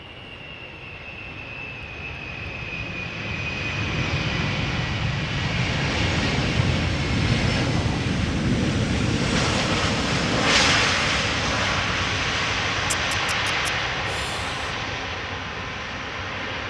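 A fixed-wing aircraft at Amsterdam Schiphol Airport roars steadily and loudly, its broad engine rumble building and holding close for most of the stretch, with no talking.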